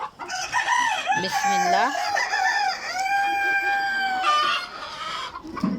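Egyptian Fayoumi chickens clucking close by, a rooster among them crowing, with rising and falling calls overlapping almost nonstop and a brief spoken word mixed in.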